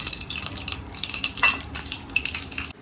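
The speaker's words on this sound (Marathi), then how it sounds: "थोडं जिरा टाकलाय आपला तडका आता होईल" Cumin seeds tempering in hot oil in a pan for a chutney tadka, a continuous crackling sizzle with clinks and scrapes of stirring, fairly close, then cutting off abruptly.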